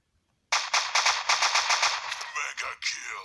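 Rapid automatic AK5 rifle fire in a first-person shooter team deathmatch, loud and close, a steady run of bursts lasting about three seconds after a moment of silence, then breaking into a few separate shots.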